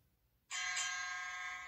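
After a short quiet moment, a bright metallic boxing round bell rings out once and sustains, clear and sharp.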